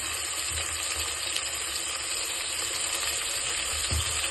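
Chopped tomato fries in oil with ginger garlic paste for kuska biryani, a steady close sizzle throughout with a few soft thuds of stirring.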